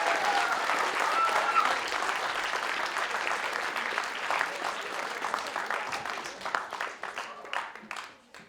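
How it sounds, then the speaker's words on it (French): Audience applause at a public-speaking contest, a dense, steady wash of many hands clapping that holds for several seconds before thinning into scattered claps and fading out at the end. "On peut applaudir Zacharia et Jérémy."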